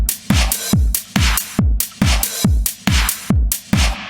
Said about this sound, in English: So I've got a sort of a standard 4 to the floor electric drum beat.